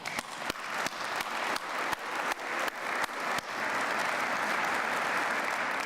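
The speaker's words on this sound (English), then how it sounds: "That's worth a clap." A few sharp, evenly spaced claps ring out, then the room at a 2014 State of the County Address breaks into broad, sustained audience applause.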